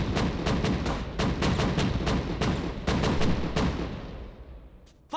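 Cannon bombardment in a kung fu martial-arts drama, a rapid barrage of loud booming blasts fired in quick succession for several seconds before fading, with a final sharp report.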